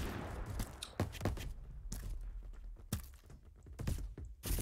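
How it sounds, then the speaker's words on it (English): Gunshots aimed at the player in a video game, heard as a handful of quiet, scattered sharp cracks spaced about a second apart over low background noise, with no talking. "Did you just try and shoot at me?"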